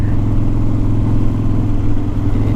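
A Harley-Davidson Low Rider motorcycle engine idles steadily up close, a low, even rumble that holds for a few seconds without revving.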